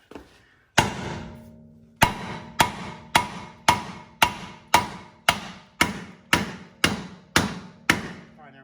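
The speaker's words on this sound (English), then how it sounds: "a couple more whacks and it dropped a little bit" Heavy hammer blows striking the front hub rotor of a 1976 Chevy K10/K20 truck, about eleven loud, evenly spaced metallic whacks ringing out one after another, close up with no talk.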